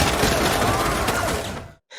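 Dense burst of gunfire from a scene in the Korean film Adrenaline, a loud sustained rattle of rapid shots that cuts off sharply near the end, followed by a brief quieter tail.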